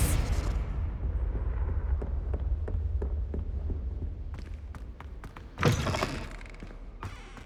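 A Confringo blasting spell goes off in Hogwarts Legacy, a burst of crackling impacts and a sharp whooshing blast near the end, set against a steady low rumble of game ambience.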